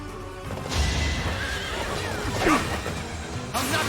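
A horse neighs loudly in a Fire Emblem: Three Houses battle, its whinny rising and falling over busy game effects and a sharp hit, heard alone without voices.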